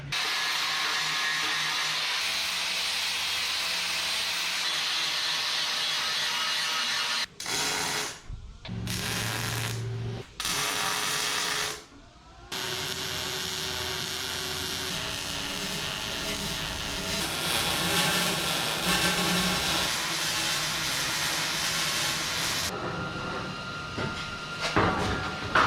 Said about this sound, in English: Yeah, I think that's all I'm gonna weld up right there.